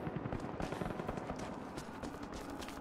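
Dense, continuous gunfire and battle noise from a large fight in the video game Rise of the Tomb Raider (2015), with rapid bursts blending into a loud, steady barrage of shots throughout.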